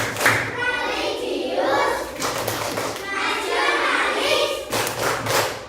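A standing class of students performs the Tepuk PPK clap chant, sharp rhythmic group claps and thumps beating out a pattern while young voices chant along throughout.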